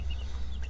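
Brahma chickens, large golden birds with feathered feet, give a brief low cluck close by, a single short burst over a steady background hum.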